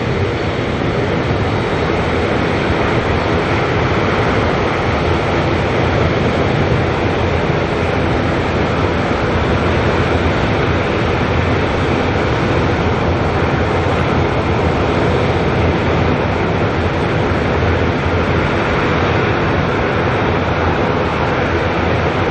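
Heavy aircraft at Auckland Airport make a loud, continuous broadband jet roar that holds steady without letup, close and overwhelming, with no voices.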